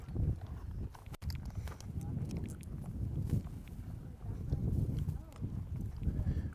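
Polo horses walk between chukkers at a 2020 polo match, their hooves clip-clopping steadily on the ground beneath a constant murmur of crowd and field noise.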